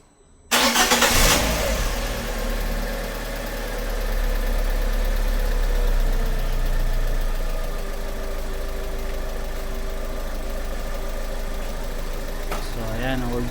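A Ford Ka engine catches after an ignition coil replacement, then settles into a steady, loud idle with a low rumble and slight surges. A voice speaks briefly over the engine.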